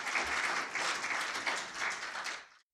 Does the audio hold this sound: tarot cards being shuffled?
no